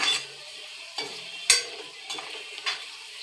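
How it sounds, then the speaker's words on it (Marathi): A ground masala paste of tomato, ginger, garlic, raw onion and fresh coconut frying in oil, a soft sizzle broken by several scraping stirs of a spoon against the pan. "ते तेलात परतून घ्यायचं."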